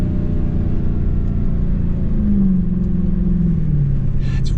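Supercharged Dodge Challenger Hellcat Redeye Super Stock accelerating flat out in a 0-60 sprint, a loud continuous engine roar that climbs in pitch, then drops at a gear change before rising again.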